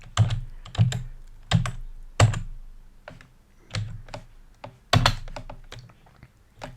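Keystrokes on a computer keyboard as a shop name is entered, coming in quick bursts of sharp clicks with short pauses between clusters, close and clear with no voices.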